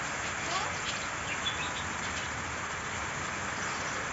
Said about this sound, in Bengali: বৃষ্টি দেখতে পাচ্ছেন বৃষ্টি হচ্ছে